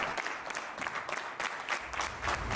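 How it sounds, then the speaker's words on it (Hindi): An audience claps in a hall, a dense, steady round of applause from many hands that carries on evenly for a few seconds with no voices over it. "इनके लिए एक बार जोरदार तालियां बजा दें।"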